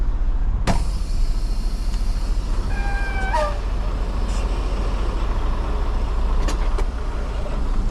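A semi truck eases away from its trailer after the kingpin is released, its engine a steady, close low rumble, with a brief rising squeal midway and a few sharp clanks.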